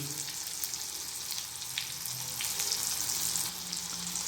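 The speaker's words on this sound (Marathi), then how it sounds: "आता हे थोडंसं जे आहे फ्राय करून घ्यायचं आता टाकतोय मिरची" Chillies sizzle and crackle steadily in hot oil in a pan alongside garlic, a close, continuous frying hiss with no voices, while a vegetable dish of cluster beans is cooked.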